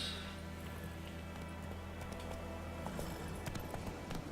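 Roach, a horse in the video game The Witcher 3, clip-clops at a steady pace over a constant low ambient hum, with faint scattered transients near the end.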